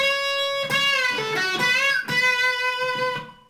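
Electric guitar plays a melodic rock lick drawn from Pachelbel's Canon, sustained notes with audible string bends rising and falling, loud and close, fading out at the end without speech.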